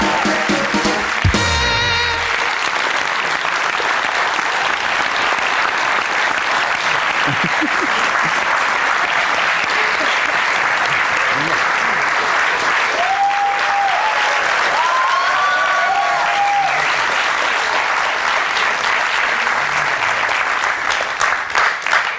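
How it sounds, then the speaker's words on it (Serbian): A studio audience at an evening talk show breaks into loud, sustained applause that fills the room, dense and steady throughout with only faint voices mixed in. "Jedan aplauz za njega, Milane!"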